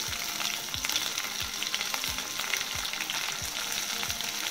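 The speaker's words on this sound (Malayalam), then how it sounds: "വറ്റൽ മുളക് കൂടി ഇട്ട് കൊടുക്കാം." Dried red chillies fry in hot oil for an Ulli Theeyal shallot curry, giving a steady close sizzle with repeated low thumps of stirring throughout and no talking.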